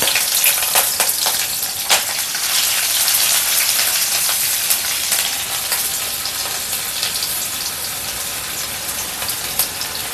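Onion sizzles loudly in hot oil after mustard seeds have popped, a dense crackling hiss with occasional sharper pops, steady throughout and close up with no voices.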